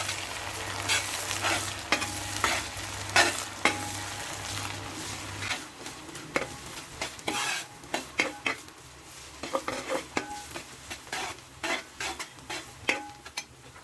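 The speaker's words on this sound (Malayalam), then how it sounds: "നമ്മളെടുത്ത് വെച്ച വേപ്പില ഇട്ട് കൊടുത്ത് നമുക്ക് നന്നായിട്ടത് മൂക്കുന്നത് വരെ നമുക്ക് ഇളക്കി കൊടുക്കാം" Neem leaves, ginger, garlic and green chili frying in hot oil for a goat remedy, with a spoon scraping and stirring the pan in sharp, irregular clinks over a steady sizzle.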